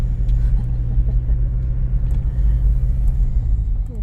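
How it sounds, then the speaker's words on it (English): Steady loud engine rumble and road noise from a car driving through rough outback terrain in the Flinders Ranges, heard from inside the cabin with faint bumps and rattles. "I better start driving then"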